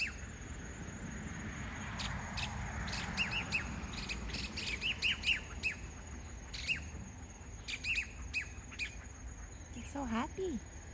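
Birds outdoors give scattered, faint chirps and squawks over a low background hum, with insect-like buzzing and a quiet voice in the mix.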